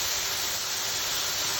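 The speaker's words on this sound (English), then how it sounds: "So onto the mushrooms. You can see it's sizzling away." Mushrooms frying in oil in a pan, a steady, loud, broad sizzling hiss that fills the whole moment without pause or talk.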